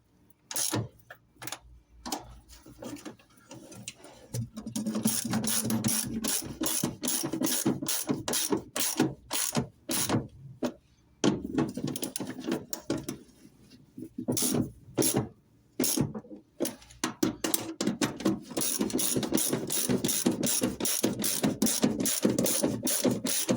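A ratchet tightens the splash guard bolts on a 1970 MGB GT, clicking in rapid bursts between pauses, with some longer stretches of continuous ratcheting.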